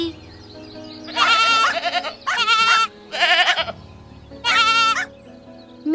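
A baby goat bleats in four loud, drawn-out cries with short pauses between them, close by and with no one talking.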